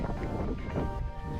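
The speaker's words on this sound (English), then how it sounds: "quite windy." Steady wind blowing across an open hilltop near a trig point on Kinder Scout, a constant rumbling buffet with microphone wind noise and no distinct gusts.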